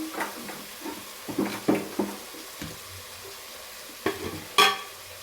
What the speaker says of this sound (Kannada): ಮಸಾಲೆ ಫ್ರೈ ಆಗ್ತಾ ಇದೆ.